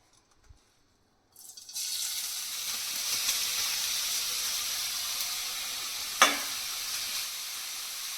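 Ghee sizzles and hisses steadily in a pan as food is added for sautéing, a loud continuous frying sound that starts abruptly after near silence, with a brief clatter partway through.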